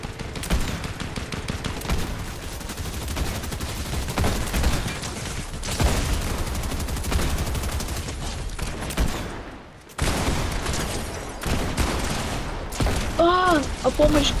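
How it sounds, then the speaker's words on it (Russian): Dense bursts of automatic gunfire from a Fortnite match crackle almost continuously, with a brief lull near the end before the shooting resumes, loud and close in the game mix. "Стреляет."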